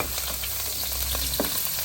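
Garlic sautés in oil in a hot pan, a loud, steady frying hiss with occasional spatters and a few soft stirring scrapes up close.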